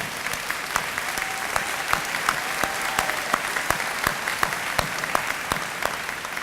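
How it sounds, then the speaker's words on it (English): Audience at a school dedication ceremony applauds steadily, a dense run of claps filling the room at moderate loudness with no talk over it. "I know you applauded, but now, Jane, stand up for real and get the applause"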